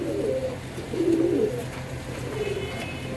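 Pigeons at a pigeon sale coo in low, throaty, repeated phrases close by, with a soft continuous hum and no talking.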